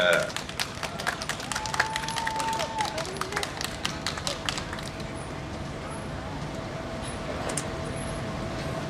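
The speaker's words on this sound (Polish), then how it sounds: "te brawa to dla pań z koła gospodyń wiejskich w Konkolówce." Audience at a rural harvest festival applauds a village housewives' association, a burst of sharp, dense clapping that thins into a steady patter of scattered claps with murmuring crowd noise beneath.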